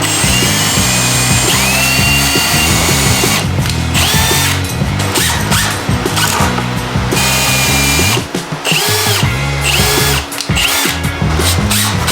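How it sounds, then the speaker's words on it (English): A power drill with a countersink bit whirs loudly and steadily, its motor pitch rising and dipping as the bit bites into wood, with brief pauses near the end. "we've been using these countersink drill bits"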